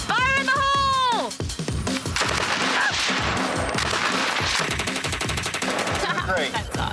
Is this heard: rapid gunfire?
yes